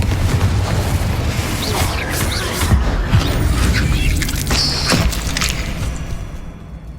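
A Confringo spell explosion in the Hogwarts Legacy video game: a loud, rumbling blast with crashing debris amid busy combat noise, fading out at the end.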